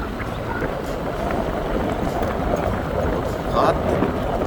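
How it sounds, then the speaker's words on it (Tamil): Strong wind buffets a boat out on the Iranaimadu reservoir, a steady rushing roar with gusty swells and water noise throughout, while people talk over it. "அந்த அளவுக்கு காற்றா கிடக்குது"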